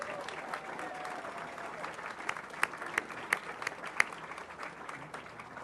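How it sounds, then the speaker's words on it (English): A council meeting audience applauds a school's state championship football team, with steady, distant clapping from a crowd in a large room and a few sharper claps standing out near the end. "So let's give them a huge round of applause."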